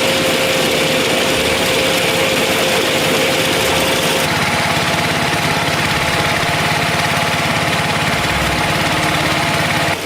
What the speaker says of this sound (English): the harvester is adjusted to move along the agusa rows, using sharp blades to neatly trim each grass stem